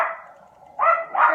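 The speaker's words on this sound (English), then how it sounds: "Oh, there go the dogs." Dogs barking at home, a few close, loud barks, one long drawn-out bark followed by two quick sharp ones.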